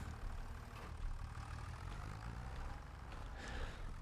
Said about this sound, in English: This tractor does not like this at all.